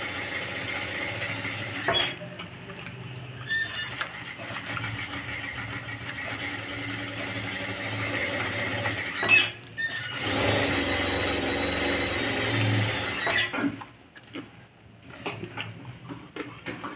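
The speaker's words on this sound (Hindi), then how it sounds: "यहाँ से हमें पूरे नेक पे सिलाई कर लेनी है।" Sewing machine stitching around the neckline of a simple blouse, a steady close whirring run of needle strokes with brief pauses and restarts, no talking.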